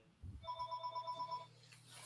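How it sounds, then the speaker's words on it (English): A phone rings with a steady pulsing electronic trill, close and fairly quiet over a low hum, and continues for over a second before stopping. "my phone is ringing"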